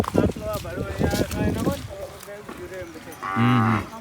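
Cows standing out in heavy rain on a farm low and moo loudly nearby, with a long deep call near the end, while people talk over the steady wet background.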